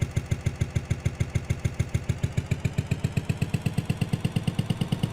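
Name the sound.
motorcycle engine in OJOL Life Simulator video game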